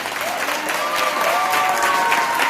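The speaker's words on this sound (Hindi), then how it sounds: "यीशु के लिए एक अच्छी ताली बजाएं जोर से" Loud audience clapping for Jesus at a Hindi-language church gathering, a short burst of vigorous applause with some crowd noise mixed in.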